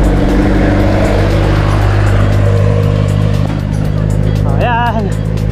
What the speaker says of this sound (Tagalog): Oh, may truck.